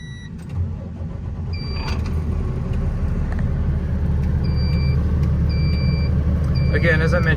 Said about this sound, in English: I'm gonna hop in the truck and take it for a quick spin